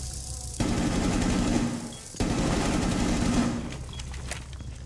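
Sustained automatic gunfire in a shooter video game, two long rattling bursts separated by a brief pause, loud and close, with no voices over it.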